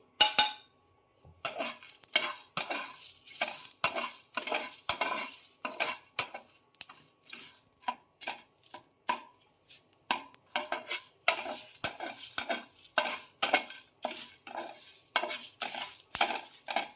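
Whole spices, millet, rice and chana dal roasting dry in a pan, rapid repeated scraping and clinking strokes of a spoon against metal with faint rustling grains, close and rhythmic, with no talk.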